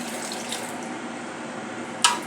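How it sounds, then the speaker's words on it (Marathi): Water streams from a tap into a jar for Tang ice candy, a steady close pouring hiss that ends with a small splash or clink at the very end. "आता यामध्ये घालणार आहोत पाणी"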